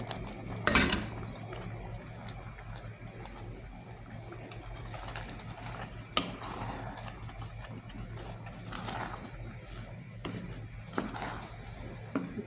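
Orache and spinach greens drop into lentils in a pot, with clattering rustles, scraping and metallic utensil-on-pot knocks recurring at close range over a low background hum.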